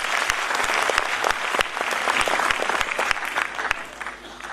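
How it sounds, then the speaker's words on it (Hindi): A theatre audience at a live Mohammed Rafi tribute night breaks into loud, sustained applause to welcome a philosophical film lyricist onto the stage, dense clapping running steadily throughout and fading slightly at the end. "मैं चाहूंगा आप एक बार जोरदार तालियों से इनका स्वागत कीजिए।"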